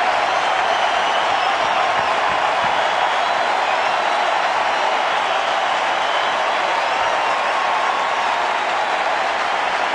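A baseball stadium crowd at a Kansas City at Minnesota game, a steady, loud wash of cheering and applause that holds evenly for the full stretch with no clear individual voices.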